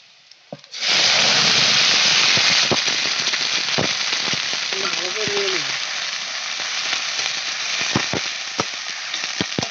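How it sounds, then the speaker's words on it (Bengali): A loud burst of sizzling as a wet chickpea-greens paste hits hot oil, settling into a steady, crackling fry with a few sharp pops. "এই ছোলার শাকের পেস্টটা তেলের উপর ঢেলে দিলাম"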